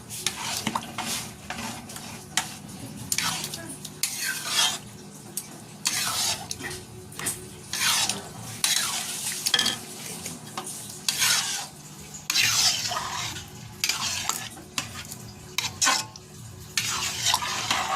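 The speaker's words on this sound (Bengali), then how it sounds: "ভালো করে নাড়াচাড়া করে নেব" Repeated scraping strokes of a utensil stirring palak paneer with ghee in a pan, rhythmic metallic rasps and clinks over a low sizzle, close and continuous without talk.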